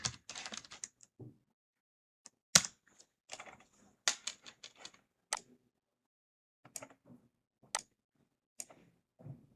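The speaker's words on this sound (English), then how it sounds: "Now in the address bar type get.adobe.com/reader" A web address is typed on a computer keyboard in quick, irregular bursts of close, crisp key clicks with short pauses between them. The keystrokes are faint and nobody talks.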